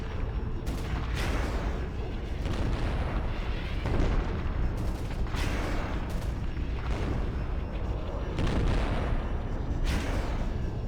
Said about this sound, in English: Even more so now that I'm using the silly mortar. Mortars are cool.